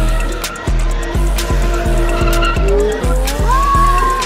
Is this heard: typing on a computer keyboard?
no